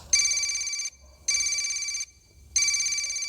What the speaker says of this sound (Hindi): पल्लवी घर पहुंच के खाना खा ही रही थी कि उसका फोन बजा